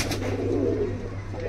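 Pigeons kept as a hobby, a pair of Dodi and red-headed (lalsire) birds from Andhra, coo in a low continuous murmur, close and steady, with no talk.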